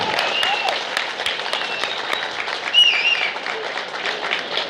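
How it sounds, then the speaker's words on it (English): Audience applause at a fan convention panel, a steady wash of many hands clapping throughout, moderately loud and slightly swelling near the end, with a faint voice mixed in. "that's worth an applause,"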